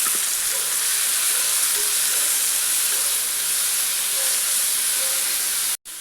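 Ground shallot paste tipped into onions frying in oil sizzles with a steady, loud hiss that holds level throughout, cutting off abruptly just before the end.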